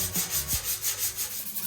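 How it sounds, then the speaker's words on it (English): A sanding block rubs by hand over the holes in a bus body, a close, rhythmic back-and-forth scraping of about a dozen quick strokes. "now I'm going through with the sanding block and doing the upside down wiggle"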